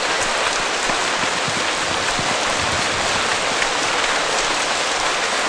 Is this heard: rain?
yes